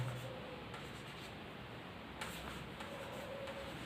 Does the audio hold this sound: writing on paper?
yes